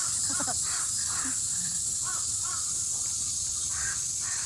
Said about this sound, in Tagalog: Kumakanta ang mga ibon